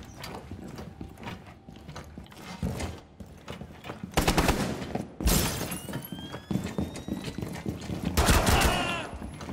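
Rapid gunfire and sharp impacts in Rainbow Six Siege as a shooter hits an enemy's nitro cell, bursts of shots and mechanical clatter arriving in loud clusters between quieter moments.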